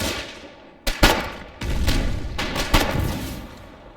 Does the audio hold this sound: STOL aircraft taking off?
no